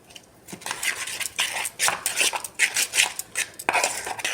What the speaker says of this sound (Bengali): এইটাই আমি ইনো দিয়ে দিলাম দিয়ে আমি ফেটিয়ে নেব